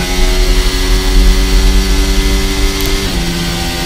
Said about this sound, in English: Basically full revs there in 7th gear up into 8th.